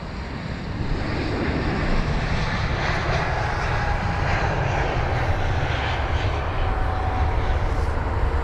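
An Air France Airbus A220 jet taxis for departure, its engines giving a steady, fairly loud broadband roar that swells slightly after the first second and holds evenly with wind noise.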